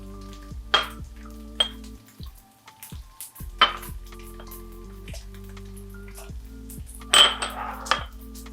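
Seasonings for yakisoba are combined in one jar, giving a handful of sharp glassy clinks and taps spread over several seconds, close by, over a low steady kitchen hum with a faint sizzle and no talk.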